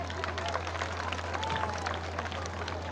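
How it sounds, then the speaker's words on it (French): Children applaud at a public event in Côte d'Ivoire, a dense, steady wash of clapping and crowd noise that lasts the whole stretch over a low electrical hum. "Applaudissez-vous les enfants."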